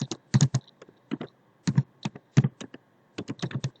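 Keys clatter on a computer keyboard in irregular bursts of close, crisp taps with short pauses between groups, heard alone with no talk.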